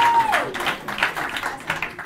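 Applause from an audience at a police chief's swearing-in ceremony, a dense steady patter of many hands clapping that fills the whole stretch, with a faint voice and a brief tone near the start.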